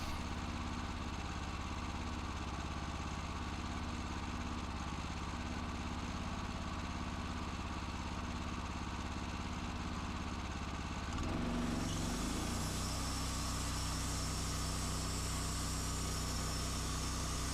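A sawmill engine runs steadily while cutting logs, with a constant loud drone. It shifts to a harsher, busier roar partway through and continues unbroken to the end.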